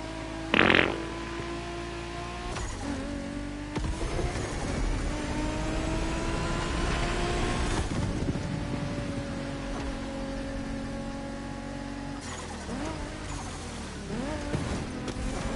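Car engines and turbochargers in the racing game The Crew Motorfest, set on city streets like Tokyo, rumble and whir continuously, with revving surges, gear-change dips and a brief sharp burst near the start.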